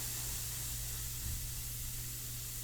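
An airbrush sprays India ink onto paper in a steady, continuous hiss, close and even, with a low hum underneath.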